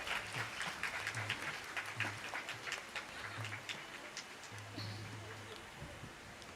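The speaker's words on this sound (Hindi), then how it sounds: "उनके लिए ज़ोरदार तालियां हो जाए" Applause from an audience at a Sindhi Hindu kirtan gathering greeting a children's group from the Sadhu Vaswani Mission, a moderate, fairly distant wash of clapping over a recurring low hum.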